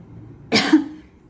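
A single short, sharp human cough close by from a person with Covid-19, followed by quiet room tone and no speech.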